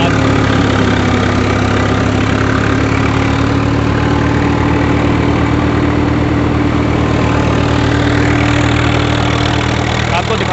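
A Swaraj 744 XT tractor engine idles loudly and steadily up close, a constant low rumble with a droning hum that never lets up.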